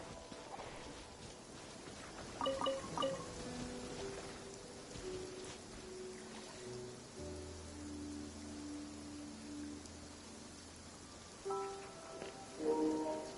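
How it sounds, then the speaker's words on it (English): Steady rain hisses throughout a scene in the video game Genshin Impact, a soft constant wash beneath sustained musical tones and occasional brighter game chimes, with no talking. "It always rains when I go on an adventure."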